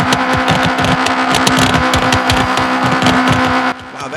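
Sunburst track car in the BeamNG Drive driving game, a loud engine revving hard with a rapid pulsing exhaust rhythm and steady drone, cutting off abruptly near the end.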